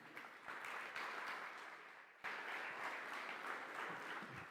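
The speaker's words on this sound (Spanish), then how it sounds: "¿Cuánto le dan un aplauso al Señor?" Applause fills a church congregation's worship service, a dense, steady wash of many hands clapping together that continues for several seconds, briefly dips, then swells again, heard without speech.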